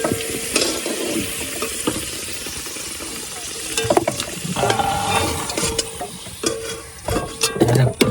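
Potatoes fry in oil in a pot at an outdoor riverside cooking spot in the Sundarbans: a loud, close sizzle with repeated metallic clanks and scrapes of the stirring utensil.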